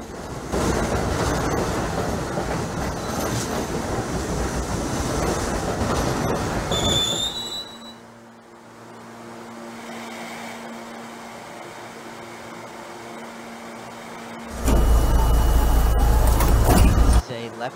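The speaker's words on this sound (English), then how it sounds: "Lefferts Blvd bound A train." An NYC subway A train in Trainz Simulator 2012 rumbles loudly along the track, then fades to a steady hum with a brief squeal before a loud rush of wheels returns near the end.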